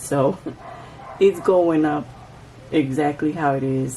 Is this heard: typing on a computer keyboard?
no